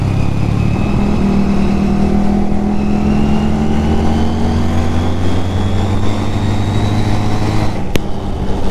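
A Honda CD 200 Roadmaster motorcycle engine drones steadily while riding, its low exhaust note rising slightly in pitch as it accelerates, loud and close throughout, with a brief sharp knock near the end.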